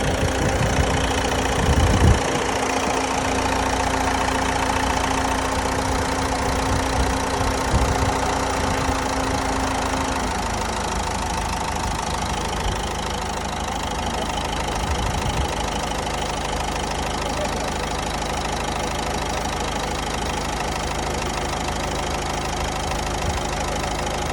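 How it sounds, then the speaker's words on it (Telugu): A Ford Fiesta with about 1.39 lakh km on it idles roughly, a steady engine drone with an uneven low throb. A faint tone in the mix drops away partway through, and no one speaks. "ఇంజిన్ స్మూత్నెస్ కూడా కొంత తక్కువగానే ఉంది"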